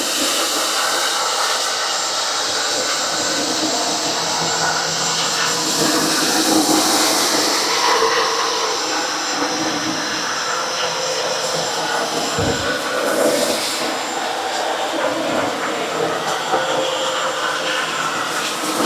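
A Bosch Unlimited 7 ProHygienic Aqua 2-in-1 vacuum and mop runs close by with a loud, steady motor whine and airy rush while picking up porridge from a floor, with a brief dip and clunk partway through.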